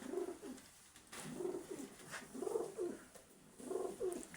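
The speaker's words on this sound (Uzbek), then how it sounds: "Kaptarlarimiz kelgan mana ko'kchalar." Pigeons coo in repeated low, throaty bursts, several calls in a row at close range with brief pauses between them, no talking.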